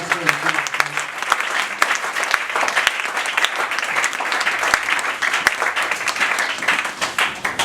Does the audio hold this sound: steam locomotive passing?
no